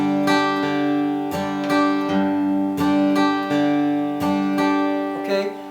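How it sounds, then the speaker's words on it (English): Acoustic guitar rhythm in a bluegrass style, steady strummed chords with quick up-strum scratches on the off-beats, the ands of two and four, played close and alone. "So I'm doing an up strum, uptick on the ands, and of the 2 and the and of the 4."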